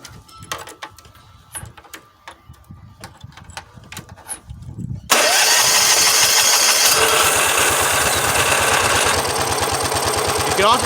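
Honda GX75 small engine catches and runs with a loud, steady mechanical chatter, its pitch shifting as the throttle is moved, after a quieter stretch of clicks and knocks before it starts.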